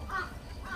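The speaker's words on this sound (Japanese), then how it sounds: "カラスに笑われてしまいましたので" A crow caws outdoors, with two short hoarse calls heard at a moderate distance over a steady background hiss.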